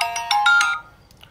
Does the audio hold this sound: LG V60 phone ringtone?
yes